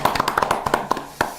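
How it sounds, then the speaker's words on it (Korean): Brief applause on a political talk broadcast from a small group: a quick run of crisp, uneven hand claps that fades after about a second, with one late clap at the end. "박수죠."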